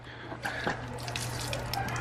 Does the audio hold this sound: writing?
no